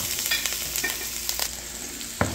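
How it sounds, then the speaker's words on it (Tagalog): Garlic, ginger and white onion stir-frying in a little oil in a cooking pan, a close steady sizzle with a few quick scrapes and one sharp knock of the utensil. "Then we're going to stir fry garlic,"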